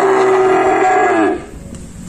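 F1 crossbred calves moo on a Vietnamese farm, one loud, long, close bellow that fades off near the end, with no voices over it.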